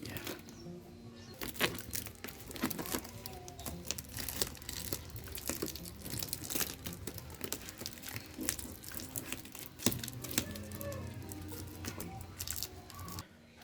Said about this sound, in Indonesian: kita akan tutup dengan lakban